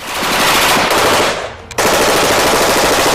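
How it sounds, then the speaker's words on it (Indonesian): Assault rifle firing on full automatic, a loud continuous burst of rapid shots that briefly breaks off and then resumes just as dense, with no talking. "Juga mampu full otomatis, memberondongkan peluru selama picu senjata ditekan."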